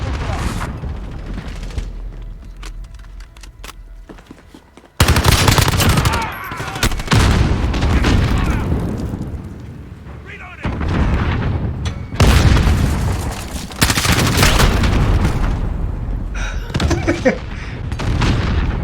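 Shotgun blasts ring out during a Call of Duty Modern Warfare multiplayer match, sharp booming shots in irregular bursts with loud gunfire and explosions, while players talk over the action.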